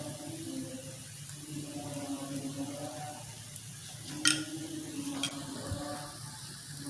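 Ghee sizzles softly in a non-stick pan while an egg pizza paratha cooks, a low continuous frying hiss with a couple of sharp utensil clinks.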